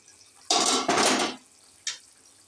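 A metal lid lifted off a pot of paneer curry, then a spoon scraping and stirring inside the pot, two close clattering bursts and a short knock afterward.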